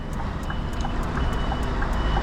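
A truck reverses on a busy UK road, its reversing alarm beeping in a steady, evenly spaced series of short pulses over a constant low engine rumble.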